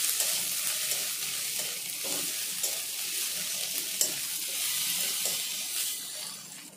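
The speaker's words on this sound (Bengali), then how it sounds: "আর পেঁয়াজ কিছুক্ষণের জন্য আরো ভেজে নেব।" Ginger and onion frying in a pan for a cucumber ghonto, a bright steady sizzle with soft stirring scrapes, close and continuous throughout.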